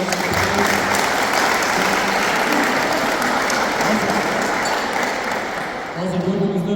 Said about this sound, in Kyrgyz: Ошондой эле өзгөчө Нарын областынан келген командага, клубга бир кол чаап коюңуздар.